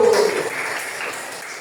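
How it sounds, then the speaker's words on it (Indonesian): A class of pupils clapping hands together in a classroom, a dense burst of claps that starts loud and gradually thins and softens over a second and a half. "Tepuk tangan dulu."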